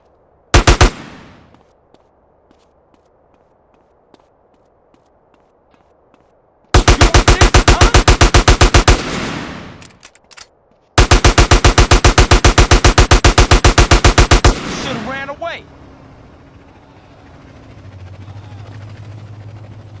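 In GTA San Andreas, one loud shot comes first, then two long sustained automatic-fire bursts with a short gap between them. The last burst trails off into echoes and a low hum.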